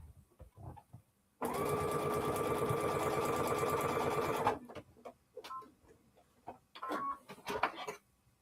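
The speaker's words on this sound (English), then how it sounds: "And we're sewing on the line." A sewing machine stitches a paper-pieced holiday quilt block along a marked line in one steady whirring run of about three seconds, with soft handling clicks and rustles before and after.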